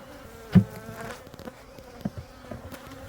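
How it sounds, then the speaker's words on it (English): Steady droning buzz of many honeybees up close around an open hive during an inspection, with a few louder thumps and bumps over the continuous hum. "I knew this hive was doing well. A lot of bees."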